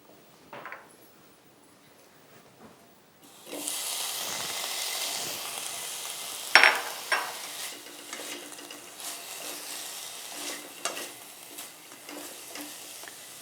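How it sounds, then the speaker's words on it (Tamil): Paneer cubes sizzle and fry on a nonstick pan with a little oil and water, a steady hiss starting a few seconds in, with occasional clicks and stirring scrapes over it. "அதனால் பன்னீரை வதக்க போகிறோம்."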